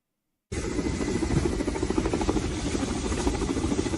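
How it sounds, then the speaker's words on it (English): A Russian Ka-29 helicopter hovering close by a ship during a boarding operation, a steady loud rotor and engine roar that starts abruptly and holds on with a rhythmic blade throb, no voices. "here's the footage of that Russian helicopter loading and unloading the boarding party"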